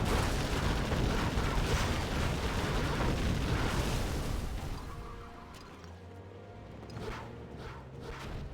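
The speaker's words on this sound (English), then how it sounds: "But this supply here is going to explode." A supply depot blows up in Generals Zero Hour: a dense, roaring broadband explosion that rumbles for several seconds, then thins into a lower crackling tail with scattered smaller pops.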